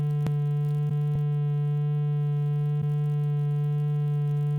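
Steady sine tone from a Woovebox synthesizer with random pan modulation, a pure sustained hum with a few faint clicks, constant and alone throughout.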